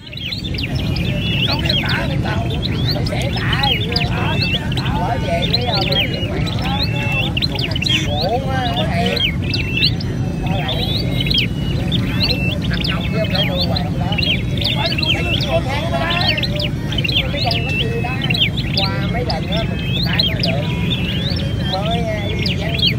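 A Sâu Đầu Đỏ songbird chirps in quick, repeated bright calls throughout, close and steady, while people talk continuously alongside it.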